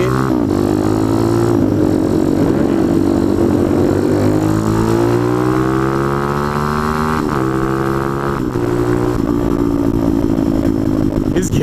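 A motorcycle engine drones loudly and close, its pitch rising and falling through revs and gear changes while someone talks over it.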